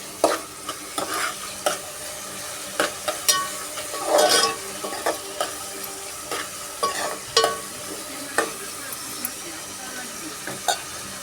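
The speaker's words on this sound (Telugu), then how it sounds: "అల్లం వెల్లుల్లిపాయ పేస్ట్ వేసేసుకుందాం." Ginger garlic paste being stirred and fried in a pan for a prawn curry, with soft sizzling and repeated scraping strokes of a spoon against the pan, close and fairly quiet, no talking.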